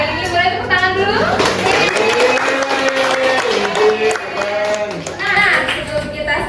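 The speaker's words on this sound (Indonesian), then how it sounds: "hari ini boleh tepuk tangan dulu." Classroom of students clapping hands together during an English peer-teaching lesson, brisk clapping mixed with chatter and a speaking voice over it.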